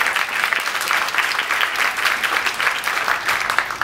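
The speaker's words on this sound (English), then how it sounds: "You may applaud if you think that's appropriate." A cruise ship audience at a live Judge John Hodgman show breaks into loud, sustained applause after a ruling on Christmas music, dense rapid clapping from many hands with slight swells, close and with no talking.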